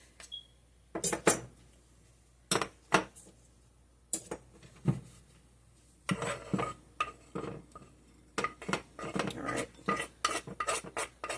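Six cloves of diced garlic are worked into butter in a bowl: irregular bursts of utensil scraping and clinking against the bowl, separated by quiet pauses.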